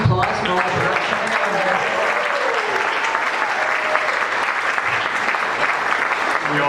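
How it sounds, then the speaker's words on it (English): A theater audience at an amateur follies show applauds the production team, dense sustained clapping filling the room at close range and fairly loud throughout, with a voice briefly heard at the start. "can we have a round of applause for all the production?"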